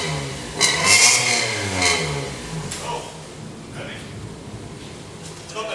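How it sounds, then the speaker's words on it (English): The exhaust of a Perodua race car revs up sharply at close range, then settles into a rough idle, with people talking over it. "Before we go, we'll have a quick listen to the exhaust. Listen to the meatiness of this Perodua."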